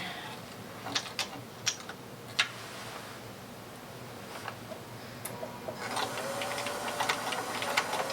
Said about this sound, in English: some machines just have a hard time letting go when their bobbin's winding